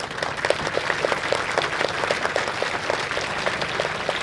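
A crowd at a Swami Vivekananda event in Mansoorabad applauds in a steady, sustained patter of many hands, even in loudness from start to finish, with no talking over it.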